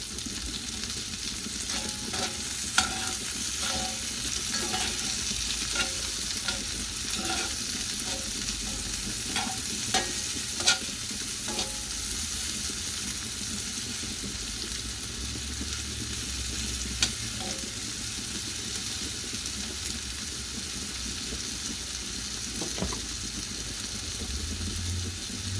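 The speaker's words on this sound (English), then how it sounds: "now we're just adding all our onions into that fry pan" Onions fry in a pan in oil left from cooking sausages. A steady low sizzle continues under occasional clinks and stirring scrapes, with no talking.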